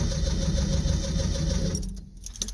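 A small engine is cranked on its electric starter, turning over steadily without catching, then the cranking drops away near the end, leaving a faint clatter.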